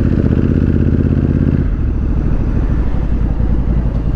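Honda Africa Twin Adventure Sports motorcycle under way, its engine a steady, loud, close droning rumble that shifts pitch midway, as if changing gear, with continuous wind and road noise and no talking.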